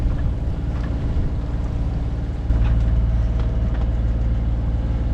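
A sailboat motors along under engine on a windless overnight passage from Tobermory to Tarbert, its steady low engine drone and hull rumble filling the scene continuously, with a slight step up in loudness midway.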